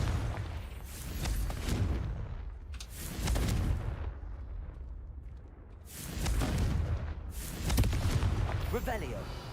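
Confringo blasting spell explosions in Hogwarts Legacy: two waves of deep rumbling booms with crackling debris, swelling and fading over several seconds, loud and full, mixed with game effects.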